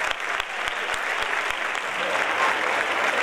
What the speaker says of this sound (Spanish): Fuerte aplauso, muchas gracias.